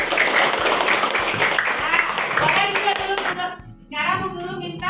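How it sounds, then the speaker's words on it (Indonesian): A group of schoolchildren in a classroom clap their hands together in a dense, sustained round of applause for about three seconds, then it breaks off into a teacher's voice speaking. "Ayo tepuk tangan dulu."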